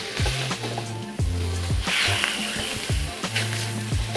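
Ground meat frying in a little oil in a frying pan for chili con carne, a close, loud sizzle broken by scraping and clanking of a utensil against the pan.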